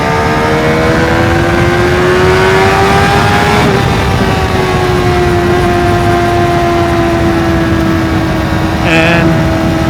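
A motorcycle engine drones steadily under wind rush while riding, with its pitch shifting as gears change and a brief auto-blipper rev blip on a downshift near the end.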